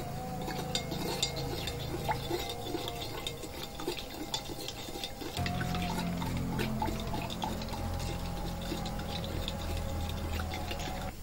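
A salted pyrite solution, with H2SO4 added, being stirred gives faint, steady liquid swishing and small clinks of a utensil against the container, with no voice heard.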